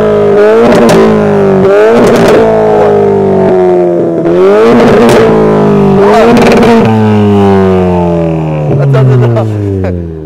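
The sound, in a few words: car engine revving during driving demonstration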